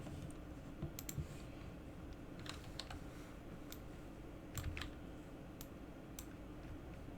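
A computer keyboard used during a 3D modeling session, with sparse, crisp keystroke clicks spread unevenly over a steady low room hum.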